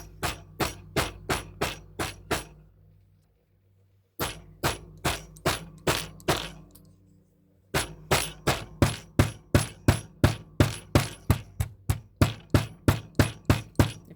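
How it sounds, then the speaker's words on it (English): A hammer pounds polymer clay on glass in quick rhythmic series of sharp taps, with two brief pauses, then a longer run of louder, evenly spaced strikes close by. "And let me show you what I do with my hammer."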